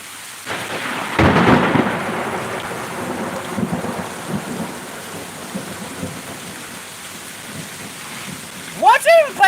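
Thunder booms and rumbles through a severe thunderstorm in Pittsburg, Kansas, with steady rain falling on surfaces throughout and a few brief voices near the end.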